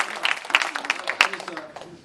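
An audience at a members' event applauds the Florida Lieutenant Governor with a short burst of scattered clapping, moderately loud, with a speaker's voice still audible over it.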